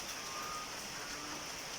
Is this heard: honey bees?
no